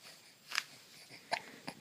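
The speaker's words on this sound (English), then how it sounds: "Just the hiccup noise?" A baby's hiccups: three short, soft catches spaced unevenly over a couple of seconds, quiet and close, with no talking in between.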